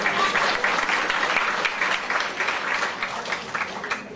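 A comedy audience applauds to welcome Rodney Dangerfield to the stage, a sustained wash of many hands clapping at a moderate distance and gradually tapering off, with no talk over it.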